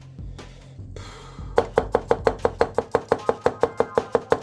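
A freshly sharpened knife tip slices rapidly through something soft, producing about seventeen crisp, evenly spaced cutting taps close by, preceded by softer rustling and handling noise.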